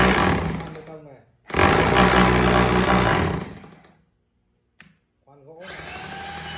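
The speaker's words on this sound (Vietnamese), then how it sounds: "Đây, khoan bê tông này." An electric concrete drill runs close by in loud, whirring bursts with a rough grinding edge, stopping and starting with brief silences between them, while someone speaks over parts of it.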